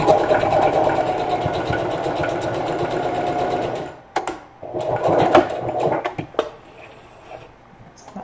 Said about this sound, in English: we're going to sew about 1/4 inch right along the bottom, making sure to sew right off the edge and to back stitch